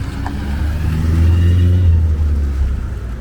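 Car passing on a busy double-lane street in San Miguel de Allende, Mexico, a loud close engine rumble swelling and fading, heard from the sidewalk amid general street noise.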